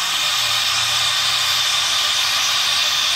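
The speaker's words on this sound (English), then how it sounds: "now I'm going to release the steam" A loud, steady hiss of steam venting continuously from an autoclave at the end of its cycle, broad and unbroken for the whole stretch, with a faint low rumble underneath.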